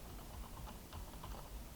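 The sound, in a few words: computer keyboard key press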